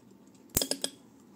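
Three quick metallic snips from a long pair of scissors pruning shoots on a coffee shrub planted in a florarium, close and crisp in a quiet room.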